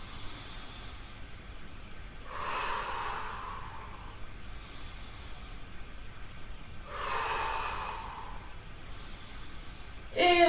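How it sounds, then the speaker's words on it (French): Two long, breathy exhales out through the mouth during a seated gentle-exercise breathing routine, each a soft airy whoosh lasting about a second and a half, separated by quiet and heard up close. "Soufflez par la bouche."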